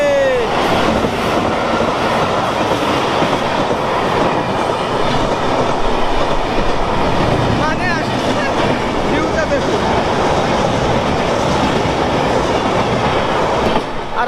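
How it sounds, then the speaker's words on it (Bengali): A passing train in Assam, a loud continuous rumble and clatter of rail cars with rhythmic wheel clacks and occasional faint squeals, very close, filling the whole stretch. "এই যে একটা ট্রেন যাচ্ছে।"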